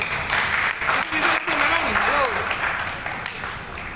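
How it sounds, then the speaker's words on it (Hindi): Audience applause at an indoor workshop gathering, broad, dense clapping held steady at moderate loudness, with a voice briefly audible above it before the clapping tapers slightly toward the end. "तालियां"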